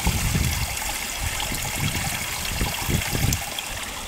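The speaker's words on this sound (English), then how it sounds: "and of course it carries the water down here" Water runs through a small roadside drain and ditch outdoors, a loud close trickling and gurgling flow with irregular low bubbling pulses, continuous and without talk.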